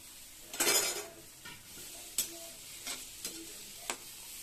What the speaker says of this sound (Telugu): ఆయిల్ హీట్ అయిన తర్వాత ఆనియన్స్ వేసి బాగా వేయించుకోవాలి